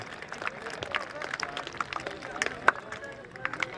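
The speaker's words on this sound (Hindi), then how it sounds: "कृपया जोरदार ताली से स्वागत करें इनका।" Audience clapping at a college cultural fest prize ceremony, greeting the second-place rangoli group; scattered, moderately loud claps and crowd murmur run throughout, with a few sharp individual claps standing out.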